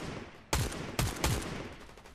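Three sharp gunshots ring out during a video game boss fight, spaced about half a second apart and fairly close, each with a short echoing decay over a low background hum.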